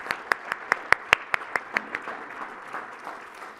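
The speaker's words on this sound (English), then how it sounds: "How about a nice round of applause for our panelists and our host?" Applause for the panelists and host at an engineering awards ceremony, opening with a run of sharp, evenly spaced claps that soon soften into a fading patter of scattered clapping.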